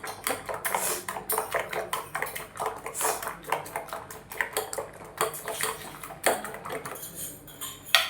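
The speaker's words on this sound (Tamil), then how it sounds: "5 முட்டை, வெங்காயம், அதுக்கு தேவையான அளவு உப்பு. 5 முட்டைக்கு வெங்காயத்துக்கு ஓகேவா. இதை போட்டு நல்லா கலக்குங்க." Eggs being beaten with chopped onion and salt in a bowl, a fast, steady run of clinking and scraping taps against the bowl, fairly loud and close, with no talking.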